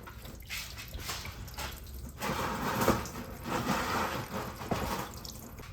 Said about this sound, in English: I'm gonna be ready to try and catch all my coolant down here.